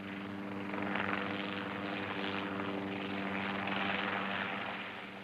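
A helicopter drones steadily overhead above the island of Syra, its rotor and engine noise loud and continuous, swelling slightly and then easing off at the end.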